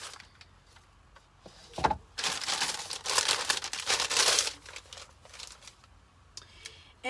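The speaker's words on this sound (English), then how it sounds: "I'm going to go ahead and move my paint paper" Paint paper crinkles and rustles as it is shifted on a craft table, a steady papery crackling that swells in the middle and then settles into lighter crinkles, with no talking.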